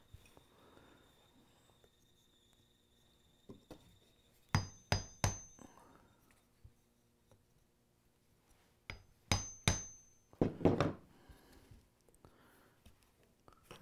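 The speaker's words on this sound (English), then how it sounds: "And center punch it." Two short bursts of sharp metallic taps, three or four hammer strikes each on a center punch, ring out in a quiet workshop, followed by a brief scraping clatter.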